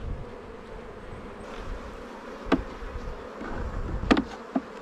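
Honeybees in a queenless hive buzz in a steady low drone, with a few louder passes of individual bees flying close, all fairly quiet.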